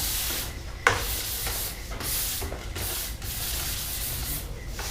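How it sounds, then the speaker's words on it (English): A plastic pipe for a hydroponic tower is hand-sanded in repeated rubbing strokes, a close scratchy rasp with brief pauses and one sharp knock near the start. "Any other marks, you can just give it a quick sand."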